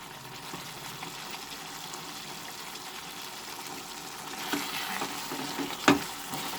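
Chicken sizzles and fries in a pan with spices and vinegar, a steady close hiss of frying with occasional stirring scrapes and a brief louder clatter near the end.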